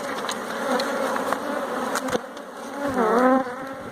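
Honeybees buzz steadily around a beehive, a close, continuous hum of many wings with a louder rising and falling drone near the end as one bee passes the microphone.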